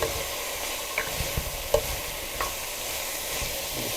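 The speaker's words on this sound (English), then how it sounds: "Keep stirring for about 5 minutes" Goat meat soup being stirred in a pot, a steady sizzling hiss with intermittent spoon knocks and scrapes against the pot, close and unaccompanied by talk.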